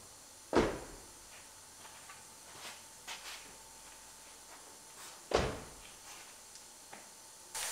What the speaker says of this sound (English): Make sure our door still opens and closes like it's supposed to.